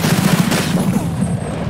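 Rapid gunfire in a video game, a dense steady rattle of shots that runs unbroken throughout and ends in a sharper burst, loud and close.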